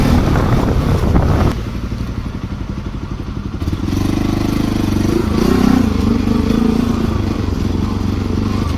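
A recently serviced motorcycle rides downhill on a mountain road, its engine humming steadily and loudly close to the microphone, with wind buffeting and some clattering.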